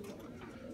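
Soft, low cooing of pigeons, a brief murmuring call heard close up and fairly quiet, with no one talking over it.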